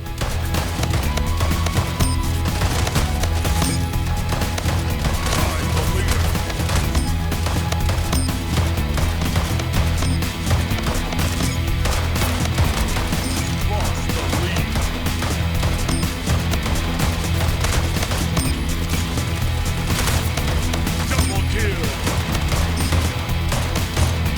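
Dense, continuous gunfire from the arena shooter Splitgate, a loud unbroken barrage of rapid shots and impacts with no pauses.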